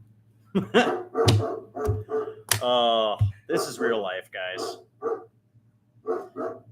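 Indoor dog barking in short loud bursts with yips and a whine, interleaved with someone talking over it.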